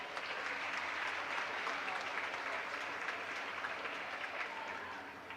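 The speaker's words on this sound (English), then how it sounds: "Let's have a round of applause for our 24-25 wrestling seniors and their families" A gym crowd applauding wrestling seniors and their families at a high school basketball night, a sustained, even roar of clapping that tapers slightly toward the end.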